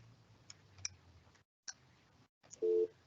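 A telephone line tone while a caller is dialed into a municipal council meeting, a few sharp clicks over a faint hiss, then one steady beep near the end, close and clear, with no voices.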